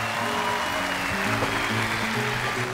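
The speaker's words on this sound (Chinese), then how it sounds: "我们再次把掌声献给我们的三位漂亮的女企业家" A television job-show studio audience applauds with steady, even clapping that runs throughout. Sustained musical tones sit beneath it.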